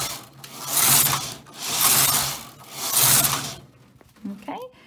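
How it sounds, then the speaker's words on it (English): A knitting machine carriage sweeps back and forth across the needle bed, three loud rhythmic mechanical whooshing passes with ratcheting clatter, then a brief voice at the end. "So what I want you to do now is just knit 4 rows for me."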